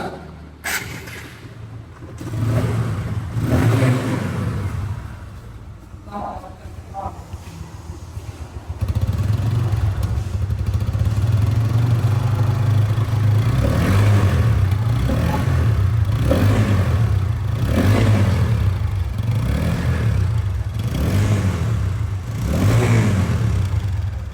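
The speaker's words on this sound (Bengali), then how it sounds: "আমরা এখন বাইকটা স্টার্ট করে দেখবো যে বাইকের সাউন্ড কন্ডিশনটা কেমন" A TVS Apache RTR 160 motorcycle with ABS starts up and settles into a steady, close engine run, with repeated throttle blips and revs rising and falling over the idle.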